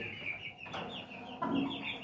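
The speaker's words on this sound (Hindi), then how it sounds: "अरे वो देखो भाई, वो रही हमारी मुर्गी कोने में" A hen clucks in the corner of a farmyard pen among goats and a rooster, with repeated close, fairly loud clucks and a steady barnyard background.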